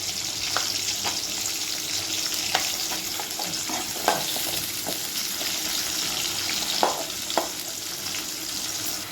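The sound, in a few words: tomato and green chillies frying in pan for chicken curry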